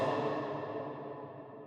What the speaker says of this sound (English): it has that long reverb tail